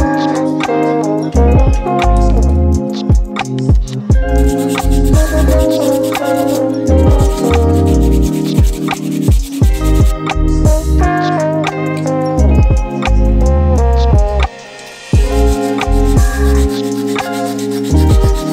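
Sanding metal on a Miata clutch pedal bracket to prepare it for welding, a loud, continuous abrasive rubbing close by with rhythmic strokes and brief breaks.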